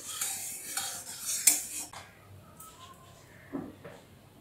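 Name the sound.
stirring oil heating in a wok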